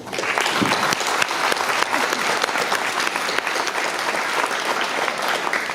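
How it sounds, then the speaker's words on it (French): Sustained applause from an audience at an associative merit awards ceremony in 2019, dense and steady for nearly six seconds with many hands clapping close together. "je pense qu'on peut aussi les applaudir"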